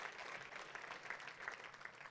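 A church congregation claps steadily, a soft, even patter of many hands heard faintly at a distance.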